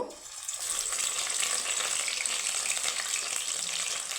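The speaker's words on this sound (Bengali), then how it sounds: "আমার তেলটা গরম হয়ে গেছে বন্ধুরা এখন আমি একে একে ভেজে নিব" Flour balls fry one by one in hot white oil in a wok, giving a steady, close, bubbling sizzle that swells after a brief dip at the start and holds evenly, with no talking.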